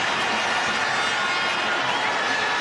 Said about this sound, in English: And that brings the crowd to its feet.